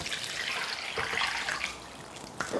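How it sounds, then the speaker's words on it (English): Cold tap water runs into a big saucepan of potatoes, a loud close rushing stream with shifting gurgles as the level rises and a brief splash near the end, no voices. "Simply cover them with cold water."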